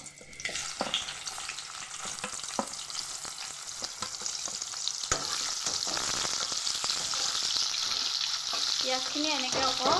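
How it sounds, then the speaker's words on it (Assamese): Onions sizzle steadily in hot oil in a pan for an Assamese fish curry with mustard seeds, a continuous close frying hiss with occasional stirring clicks and scrapes. "ইয়াতে মই এতিয়া পিঁয়াজখিনি দি দিম।"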